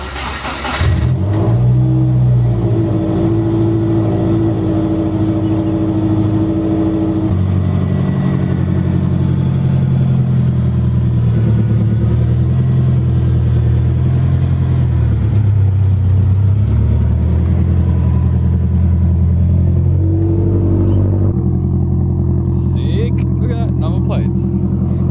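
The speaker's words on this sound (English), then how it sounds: "So let's go for a drive." A Subaru WRX GC8 street car driving, its engine droning and revving steadily close up for the whole stretch, with pitch rising and falling through gear changes and a brief sharper rev near the end; a voice talks over it.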